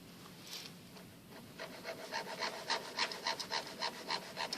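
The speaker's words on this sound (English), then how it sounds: "now I'm gonna need to remove extra wax that I do not need." Excess jewelry wax is carved away with a hand tool in close, rhythmic rasping strokes that grow louder and steadier after a quieter start, with no talking.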